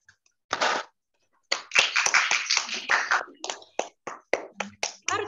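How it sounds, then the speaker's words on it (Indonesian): An audience at a school research competition's technical meeting gives brief, scattered applause, with a few uneven bursts of claps that thin to sparse, separate slaps. "Tepuk tangan dulu buat kita semua."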